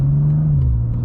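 A 2025 BMW M2 accelerating briskly, its engine note rising into a smooth mid-pitched growl with a steady whir, heard close and alone for about a second.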